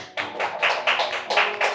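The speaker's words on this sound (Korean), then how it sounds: "박수." A church congregation claps in a quick, even rhythm, about seven sharp, close claps in under two seconds, with no voices over them.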